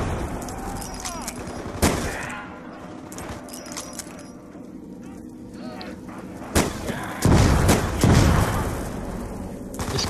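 Bursts of gunfire from a zombie survival video game set in a town, sharp shots and rapid volleys scattered across the stretch, louder near the end, with players talking over it.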